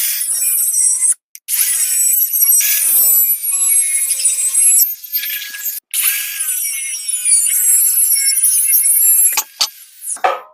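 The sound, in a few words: cutting rusted steel U-bolts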